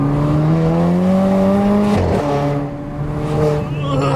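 Turbocharged, mapped and decatted 250bhp Renault Clio RS Mk4 accelerating hard: loud, close engine drone climbing through the revs, a sharp gear change cutting in around halfway, then pulling again, with a voice briefly over it.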